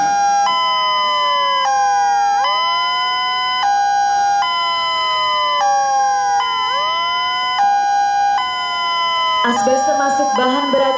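An ambulance siren wails loudly and close in repeated rising-and-falling tones with layered harmonics, running continuously before giving way to a brief jumble of other sound at the end.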